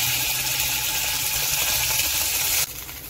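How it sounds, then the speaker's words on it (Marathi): Ginger garlic paste dropped into hot oil for an egg curry, giving a loud, steady hissing sizzle close up that drops abruptly near the end. "तेल गरम झालेलं आहे, त्याच्यात आलं लसूण पेस्ट टाकूया।"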